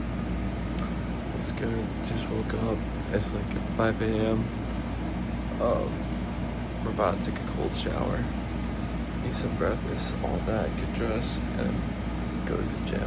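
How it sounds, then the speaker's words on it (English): A portable AC unit runs with a steady broadband hum and whir through the whole stretch, loud and close, while a person talks over it. "Sorry about the noise, because again, this is like an portable AC unit."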